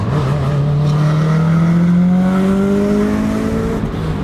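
A 500 BHP Subaru Impreza with four-wheel drive accelerates hard down a straight, heard from inside. The engine note rises loud and steady as the revs climb and holds a strong roar with no talking.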